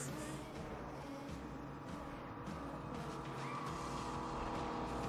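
A car in the racing game Need for Speed: The Run drifts and slides with a continuous engine roar and a hint of tire squeal, quiet but sustained with no pauses.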